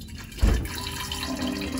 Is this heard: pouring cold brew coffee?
yes